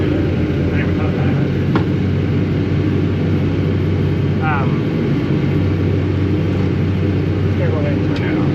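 The engine of a crawler tractor sitting on a farm trailer runs with a loud, steady low rumble that fills the whole clip. Voices can be heard faintly over it.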